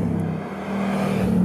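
A Ford Mustang GT coupé from 2018 drives along with a steady, close engine drone and road rumble, the tone rising slightly toward the end, no one speaking.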